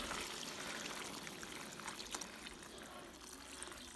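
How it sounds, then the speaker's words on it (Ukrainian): Water pours into a pot of cooked meat for Cossack kulish, a soft continuous splashing trickle heard close and faint throughout. "Вливаю воду."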